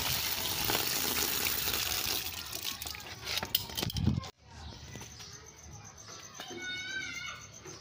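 Running water splashing over eggplants being washed in a village kitchen, a steady close rush that breaks off midway, followed by quieter handling sounds and faint chirping.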